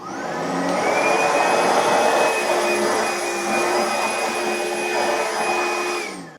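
An upright bagged vacuum cleaner runs on its second power level over medium pile carpet, a steady loud whining motor roar with a high tonal pitch, sustained for several seconds and then winding down at the end.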